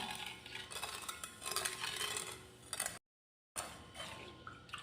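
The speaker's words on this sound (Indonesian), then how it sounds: "kita aduk sampai si gulanya itu larut ya" A spoon stirs sugar into about 900 ml of water in a pot for a fruit pudding, giving soft continuous swirling and light scraping with faint metallic clinks, steady and close, cut by a short silent gap.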